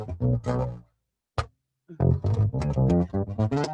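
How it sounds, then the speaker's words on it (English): A 1970s-style bass line plays a busy run of distorted, effects-laden notes, broken by a short silence and a sharp hit before the notes resume. "In the 70s, a bass line could sound like this."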